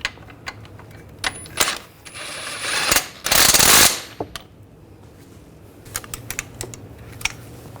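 A ratchet snugs down strut bolts on a Volkswagen Tiguan front suspension, with quick clicking bursts, metallic taps and a longer buzzing run of clicks in the middle, close and loud.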